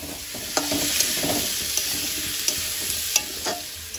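Pumpkin and potato fry in a pan, a continuous sizzle broken by a handful of sharp scraping strokes as the pieces are stirred, close and fairly loud, with no talking.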